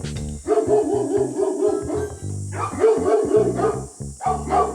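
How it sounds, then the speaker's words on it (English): Several dogs barking in quick, overlapping bursts, loud and close, with deep woofs and higher yips mixed together and barely a pause. "Bro, these dogs are terrifying"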